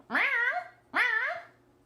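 A human voice imitates a cat sound with two drawn-out, whiny meows, each rising then falling in pitch, close and fairly loud with a short gap between them.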